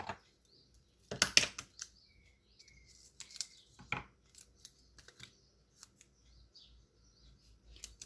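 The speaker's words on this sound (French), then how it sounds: "Alors, mes petits ciseaux." Small scissors snip paper for a scrapbook page in a few quick, crisp cuts, then lighter scattered snips and rustles in a quiet room.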